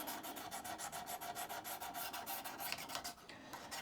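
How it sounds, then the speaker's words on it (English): A draw knife is honed on fine-grit diamond paddles, a close, quick rhythmic rasping of short back-and-forth strokes that repeat steadily before easing off near the end, with no voices. "I like to go to at least my red grit on these diamond paddles"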